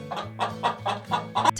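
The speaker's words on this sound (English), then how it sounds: "It's the cheerful chicken." A chicken clucks in a quick series of about seven short, rounded clucks at a steady rhythm, close and fairly loud, with no talking over it.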